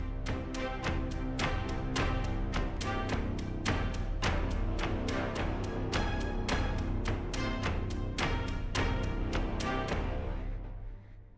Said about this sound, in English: this is Orchestral Kontakt library, and it has 10 instruments